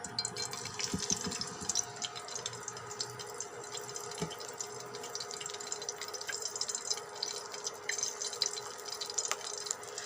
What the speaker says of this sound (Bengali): ভালোভাবে এখন আমি তেলের মধ্যে ছেড়ে দেব